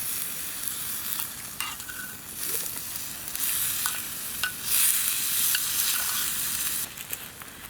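Homemade bacon sizzles and spits loudly in a pan at a wild camp in hornbeam woodland, with steady frying hiss and occasional scraping stirs, close and continuous.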